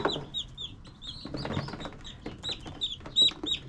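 Young lavender chickens cheep in a steady stream of high, thin peeps close by, mixed with soft clucking from a broody hen and light shuffling.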